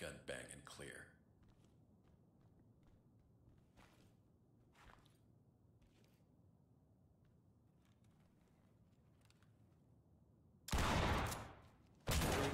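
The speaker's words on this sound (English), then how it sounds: "Breach with a shotgun." Shotgun door breach and gunfire in the tactical shooter Ready or Not, a brief crack at the start, faint footsteps and scattered sounds, then two loud, heavy blasts near the end.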